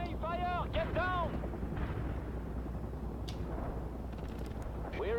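Gunfire in a military combat video game, a few sharp shots heard faintly under steady low rumble, with clipped radio-style voice chatter and whistling tones around them.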